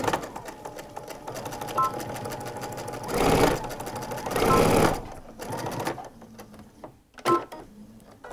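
Sewing machine stitching a backstitch on a fabric Christmas gift bag, a steady close mechanical whir with louder runs and brief pauses, stopping and restarting near the end; no talking.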